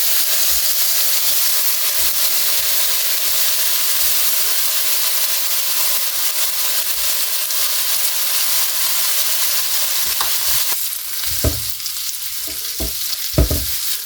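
Bacon fries in an electric skillet with a constant loud sizzle and hiss throughout. Near the end come a few brief scraping and stirring knocks.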